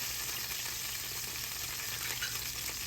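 Onions and garlic sizzle steadily in a hot pan, a dense, continuous frying hiss that stays even and close throughout with no talking.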